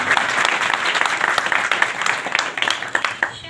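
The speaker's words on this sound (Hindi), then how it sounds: "इसके अनुसार एक बार जोरदार तालियां।" Loud, sustained applause from a group of young people at an NSS camp, honoring their teacher, with dense clapping that continues without a break.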